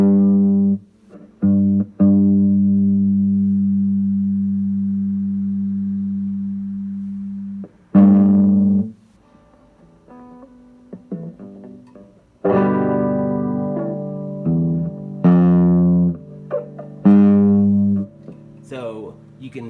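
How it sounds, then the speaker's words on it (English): An electric guitar plays through an amp set to a crunch tone with moderate gain, just starting to break up. Sustained, harmonically rich notes ring out in separate phrases with short silent gaps between them, loud and close. "and I want to get that crunch tone back."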